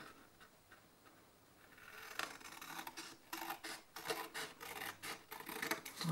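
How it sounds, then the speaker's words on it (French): Scissors snip through a paper envelope along a drawn line, a series of quiet, close crisp cuts that start faintly and grow into a quicker run of sharp rasping snips. "Je découpe sur mon trait."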